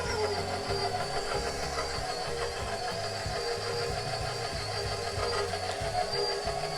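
Electric mixer beating butter cream cake batter, a continuous steady motor whir with a rhythmic low churning pulse, close and even, no talking.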